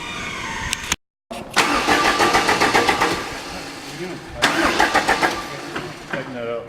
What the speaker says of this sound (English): We were trying to start this engine.